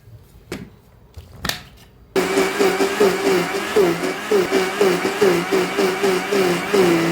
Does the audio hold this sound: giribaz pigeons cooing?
no